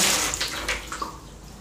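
Strong water flow gushes from the pipe of a home water filter system: a loud, steady rush of running water that eases slightly near the end, with no voices.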